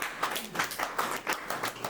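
Audience at a poetry reading breaking into bursts of applause and clapping, several swelling waves of hand claps in a near, moderately loud room.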